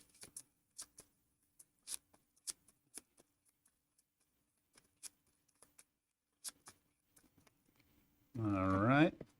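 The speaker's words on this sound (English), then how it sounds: "I'm gonna shuffle this up." Marvel Champions cards being shuffled, a series of soft, sparse riffles and taps spread across a quiet stretch, faint and close, before a voice begins speaking at the end.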